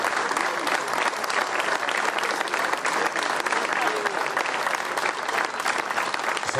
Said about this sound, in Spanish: Aplauso por los abrazos.